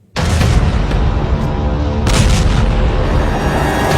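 Explosions in news footage of Israeli and US attacks on cities across the Middle East: a loud, sustained rumbling blast with repeated booming bursts, close and continuous, with no talk.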